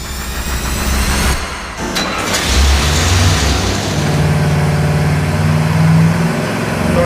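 A Chevy 350 V8 runs on a dyno, rumbling loudly, then revs hard after a brief dip and holds a strong, sustained roar with no voices.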